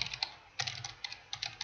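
Quick clicks from a computer keyboard come in short, uneven bursts of keystrokes while code is typed in a quiet room, close and fairly soft.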